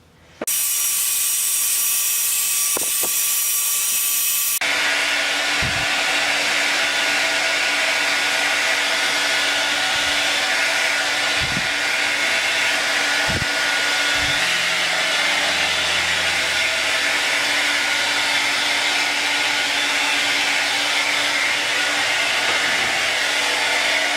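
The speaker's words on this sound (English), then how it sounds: "I'm gonna blow dry it." A hair dryer blows steadily on hair, a loud continuous airy whoosh that starts abruptly and runs without pause, with occasional faint clicks and knocks from handling underneath.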